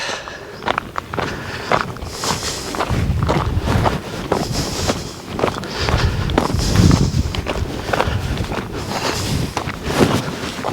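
Footsteps crunch along steadily on an outdoor stroll past a hay field with round bales, a regular walking rhythm of close, moderate steps over a steady wash of wind buffeting the microphone.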